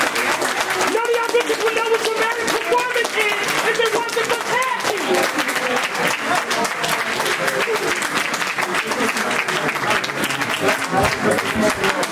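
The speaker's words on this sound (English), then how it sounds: "We don't gotta keep clapping." Sustained applause from a crowd at a memorial service, loud and continuous throughout, with voices and cheers mixed into the clapping.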